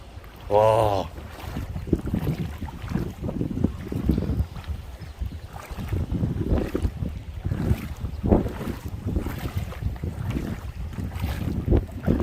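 Wind gusting over open sea from a boat during cast-net fishing, a steady rushing roar buffeting the microphone with a low rumble throughout and a brief whistling tone near the start.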